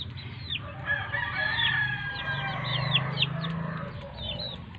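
Chickens at a small backyard poultry farm cluck and chatter close by while a rooster crows, with several overlapping calls.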